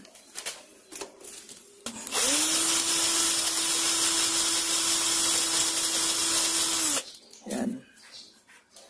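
A power drill re-bores a hole in metal to oversize it for a larger bolt while rethreading with a tap and die. It runs for about five seconds in one loud, steady whine, with quieter handling noise before and after.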